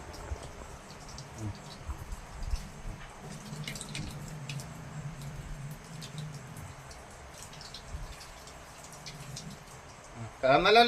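Both hands being washed with hand wash under running water at a sink, a soft steady trickle with light drips and splashes that grows louder at the end, while a person talks faintly.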